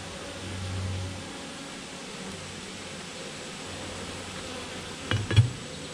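Bees buzzing steadily around a hive in July, a continuous close drone with a brief louder burst near the end.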